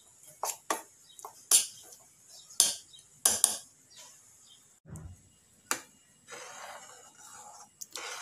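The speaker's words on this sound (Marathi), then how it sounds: "चवीनुसार मीठ ॲड करायचं आहे आणि व्यवस्थित मिक्स करून घेऊयात" A metal spoon clinks against a pot while turmeric and salt are stirred into a simmering Marathi-style bhaje amati gravy: a series of sharp, separate taps and scrapes with quiet gaps between them, close and fairly soft.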